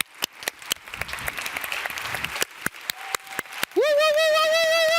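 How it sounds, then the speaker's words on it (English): Audience applause for a Democracy Innovation Award finalist, scattered sharp claps building into a fuller crowd clapping, then cut off by a loud sustained voice-like whooping tone in the final second. "Yes, this is your applause."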